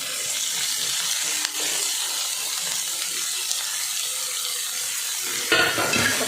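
A small-leaved gholachi bhaji, a leafy vegetable, sizzles and hisses steadily as it is sautéed in a pan after water is added, with a brief clatter of stirring near the end.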